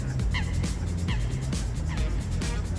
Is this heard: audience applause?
no